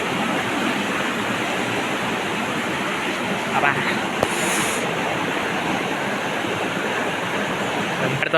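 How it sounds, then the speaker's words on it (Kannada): Bandaje Falls waterfall roars as a loud, steady broadband rush of falling water that fills the whole scene without letting up. "ಇಲ್ಲಿ ನೋಡಿ ಹೇಗಿದೆ ಅಂತ, ಬಂಡೆಜೆ ಫಾಲ್ಸ್"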